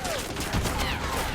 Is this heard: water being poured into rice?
no